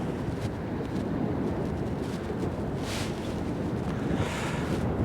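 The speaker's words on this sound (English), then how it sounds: "The wind is horrible" Strong wind gusting on an open Bristol Channel beach during a fishing session, a steady broadband roar with heavier buffeting bursts, continuous and loud with no voices.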